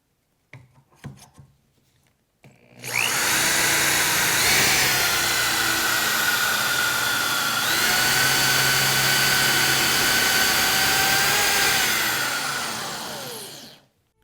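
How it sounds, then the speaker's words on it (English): A 1/2 inch brad point bit bores a hole 1 1/4 inches deep into a wooden chair leg, giving a steady loud whirring grind that lasts about ten seconds before winding down. A few light bench knocks come before it. "Got a good 1/2 inch brad point bit, and I'm going to drill it 1"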